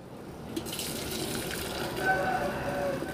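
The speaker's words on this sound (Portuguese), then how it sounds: "vou adicionar um litro de água fervida" Boiled water poured from a container onto chopped ginger and horsetail for tea, a steady close splashing and gushing stream lasting a few seconds with no talk over it.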